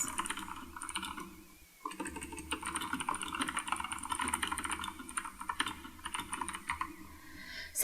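Computer keyboard typing as notes are added in a text box while annotating a digital reading in Adobe Reader, with rapid, irregular clicking that runs almost throughout, pausing briefly once, close and moderately loud with no talk.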